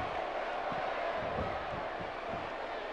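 Steady roar of a virtual arena crowd in WWE 2K18 for a Glendale match, a dense, constant wash of massed voices with no breaks, holding at an even level throughout.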